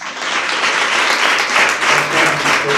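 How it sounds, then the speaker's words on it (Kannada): A church audience gathered for a youth sermon applauds loudly and continuously, a thick, even wash of many hands clapping with a faint voice underneath. "ಚಪ್ಪಾಳೆ ತಡಪ್ಪಾ"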